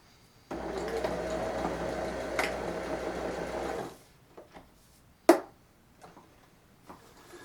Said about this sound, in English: She's going to go ahead and just do a quick little back stitch